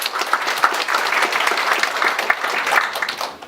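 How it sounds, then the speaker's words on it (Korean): An audience at a KAIST plaque-unveiling ceremony for an IBS research center applauds a research director, a full, steady round of many hands clapping that holds for several seconds with no talk over it. "큰 박수로 단장님을 받아주시기 바랍니다"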